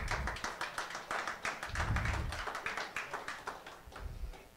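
Applause from an audience at a speaking event, a steady patter of many hands clapping heard from a little distance, carrying on for several seconds without talk.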